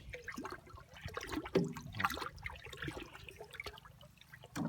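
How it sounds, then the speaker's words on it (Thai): Water is stirred in a large 200-liter tank of photosynthetic bacteria culture, giving close, uneven sloshing and trickling swirls with soft splashes. "ต่อมาแล้วก็มาทำการกวนน้ำในถังต่อนะครับ"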